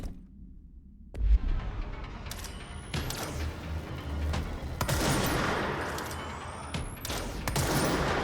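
Rapid gunfire from the Pierce weapon form in the game Control, sharp bursts and heavy thuds over a rumbling, busy combat soundscape, with no voices.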